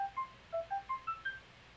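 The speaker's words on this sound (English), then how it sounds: "If disappointment ever had a sound, it would sound like a ringing phone." A phone ringing in a visual novel video game: a quick, faint run of short electronic melodic beeps, alone, with no voices.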